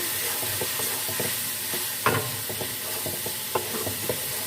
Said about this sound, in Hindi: 3 से 4 मिनट के लिए हम गोश्त को अच्छी तरह से भून लेते हैं।